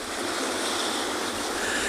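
Wind buffets the microphone on a penguin beach in a continuous broad roar, with surf-like rushing noise and no voices.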